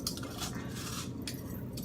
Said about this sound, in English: I'm just slicing over the garbage